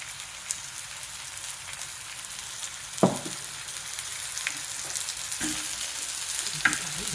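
Food roasts in oil in a pan for a South Indian meal, giving a steady soft sizzle broken by a few sharp utensil clinks, with no voices.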